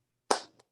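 During an online open-mic meeting, one participant's microphone picks up a single sharp, close hand clap, followed by a faint second tap.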